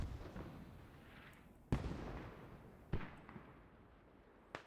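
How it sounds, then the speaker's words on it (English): Hell cannon artillery firing in a battle video game: three sharp, booming blasts spaced a second or more apart, each with a rumbling tail, over a low background hum. "Oh, now the hell cannon has fired also."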